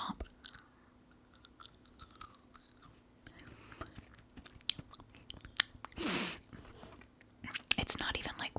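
Soft, close chewing of powdery 1990s Halloween candy that turns to dust, with quiet crunchy bites and crumbly sounds, faint whispery breaths and a brief rustle near the end.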